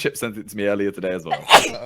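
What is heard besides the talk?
sneeze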